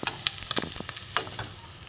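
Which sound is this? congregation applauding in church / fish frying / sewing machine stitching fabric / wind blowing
fish frying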